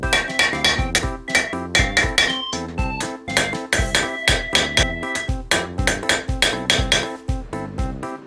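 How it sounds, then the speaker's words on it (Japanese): Socket lightly tapped with a hammer to press valve parts into a Honda CBR1000RR cylinder head, giving close, crisp metallic taps in a quick, steady, repeating rhythm. "ちょうど良い大きさのソケットを使って、軽く叩いて圧入してきます"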